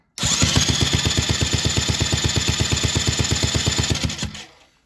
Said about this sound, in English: So all we're going to do is turn the engine over and you'll see that there's no spark.